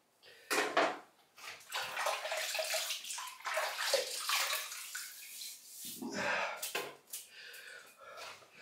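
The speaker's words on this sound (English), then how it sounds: "I'm going to wet the face" Water splashing as a man wets his face before a shave with a vintage Gillette 1908 safety razor, with close, broadband splashes and trickles in repeated bursts and brief pauses.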